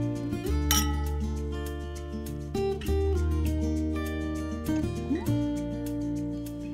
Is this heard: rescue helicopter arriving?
no